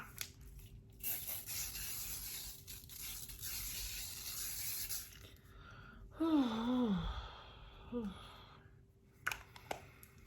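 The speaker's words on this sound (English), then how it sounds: "So the Morphe setting spray." A steady, airy spray of Morphe makeup setting spray hisses for several seconds, then stops; a short sighing voice and soft sounds follow close by.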